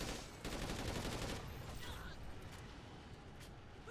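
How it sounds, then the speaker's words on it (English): A magazine-fed shotgun in a video game fires in a fast, dense barrage. The blasts run together in a loud rattle at first, then a steadier stream of reports follows with no pauses. "It's a really strong gun because it fires really, really fast."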